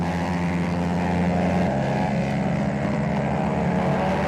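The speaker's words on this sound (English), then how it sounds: "On your screen is the fight for the 4th place between Jeffrey and bike number 10, Raj from Trichy." Continuous, loud engine drone of Honda racing motorcycles battling on a race track in a one-make expert-category race, a dense sustained roar with a pitch shift partway through as bikes pass.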